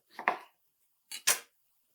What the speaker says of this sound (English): To start, just cut the end off the eggplant.